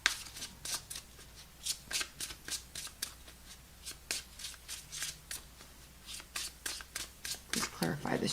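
Tarot cards shuffled by hand, a run of quick crisp riffling bursts repeating steadily close up, with a brief voice at the end.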